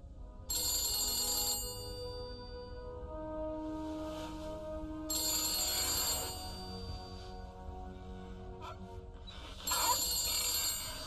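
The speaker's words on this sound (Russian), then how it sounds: "О, звонок. Нам звонок." A telephone rings in The Beast Inside 2 horror game, three loud electronic rings repeating at steady intervals over a low ambient drone.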